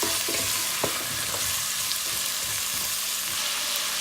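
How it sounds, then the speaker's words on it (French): Peas and bell pepper frying in a pan for a vegetable pulao give a continuous loud sizzle, broken by a few sharp scrapes and clicks as the mixture is stirred. "Je mélange le tout, puis je laisse cuire l'ensemble pendant quelques minutes."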